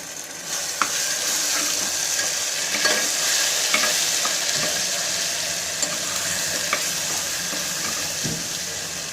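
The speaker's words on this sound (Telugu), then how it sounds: "ఉల్లిపాయ ముక్కలు, పచ్చిమిరపకాయ ముక్కలు వేసుకోవాలి. ఇవి కొంచెం ఫ్రై అయ్యేంత వరకు ఆగాలి." Onion and green chili pieces fry with ginger-garlic paste for a sorakaya masala curry, a steady close sizzle broken by regular scrapes and taps of a spatula stirring the pan.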